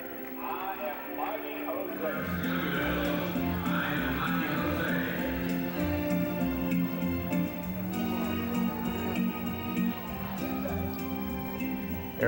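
A horse neighs in a long whinnying call amid other horses, with hoof clip-clops and a steady background of voices and ambient noise.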